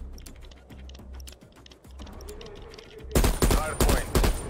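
Rapid bursts of sharp clicks from a PlayStation 5 controller's adaptive trigger while firing a gun in a video game, starting faint and turning loud and dense toward the end.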